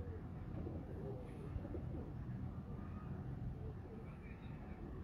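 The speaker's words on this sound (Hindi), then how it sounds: "ये जी बड़ा परिंदा है, मेन ब्रीडर कबूतर है" A large main breeder pigeon coos softly in low, repeated murmurs on a rooftop, with a quiet background hum and a nearby voice talking faintly.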